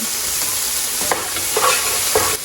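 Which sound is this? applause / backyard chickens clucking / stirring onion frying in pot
stirring onion frying in pot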